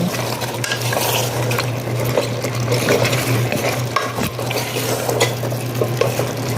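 Potatoes and carrots are stirred in a cooking pot, with a spoon scraping and clattering in repeated strokes over a continuous sizzle, close and alone with no talking.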